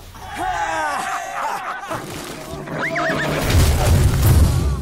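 A horse whinnies loudly up close, its neigh rising and falling, followed by deep rumbling booms and a second shorter whinny.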